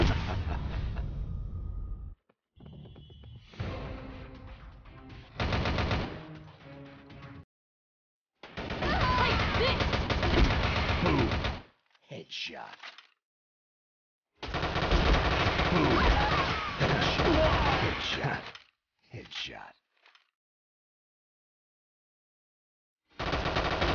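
Gunfire in the video game Frontline Commando Rivals, loud bursts of automatic fire and single shots in separate volleys with abrupt silent gaps between them.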